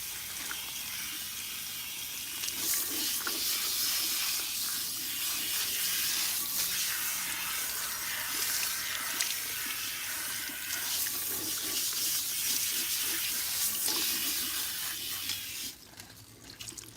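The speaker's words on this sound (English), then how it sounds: "All right, so we're gonna use cold water." Cold water runs steadily from a tap into a sink while someone's hair is washed, a continuous close hiss and splash that shifts slightly in tone and cuts off near the end.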